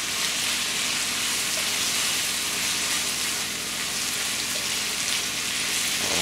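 Ginger beef sizzling and crackling in a hot pan while being stir-fried, a steady close hiss with a dense spattering texture and no voices.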